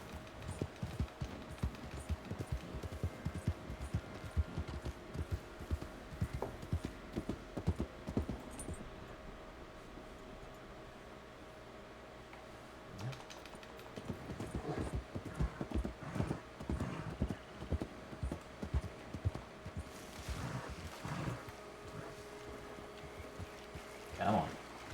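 Horse hooves clip-clop in the RedM western game set in Bandera County in 1891, a busy steady trot that pauses midway and then resumes, with a whinny and occasional speech over it.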